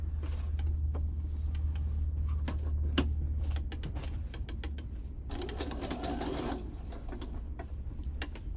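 A sewing machine stitches embellishments onto a journal cover, a close mechanical whir with clicking needle strikes, slowing into intermittent clatter and a brief rougher burst of handling.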